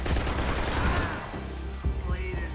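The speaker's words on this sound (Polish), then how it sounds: "Tak, to wybuchło chyba." A loud explosion in the Max Payne 3 shooter game, heaviest at the start with a deep rumbling blast, then fading into scattered thuds and debris-like impacts.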